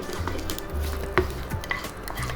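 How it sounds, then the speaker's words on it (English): Hot tempering poured into tomato rasam gives a brief close sizzle and splash, with soft clinks of a pan or spoon around it and no voices. "Wow, this sizzling sound, especially when it's added hot, amazing."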